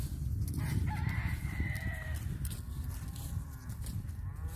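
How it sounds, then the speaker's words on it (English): Limousin cattle moo across an open field, low drawn-out calls over steady outdoor rumble, with a rooster crowing faintly in the background. "Cattle. Limousin cows."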